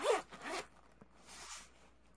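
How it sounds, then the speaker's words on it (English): A tough YKK zipper on a Cordura cover for a Rite in the Rain spiral notebook is pulled open: two quick, close rasping zips, then a softer, longer drag. "It's got this awesome YKK zipper."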